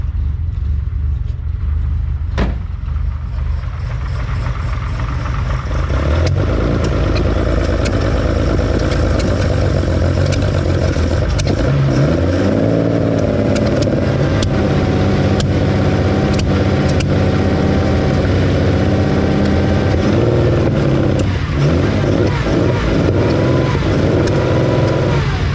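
A Ferrari 365 GTC/4 engine starts from ice cold with no choke, cranking briefly, then catching into a loud, uneven close idle with occasional pops and spits.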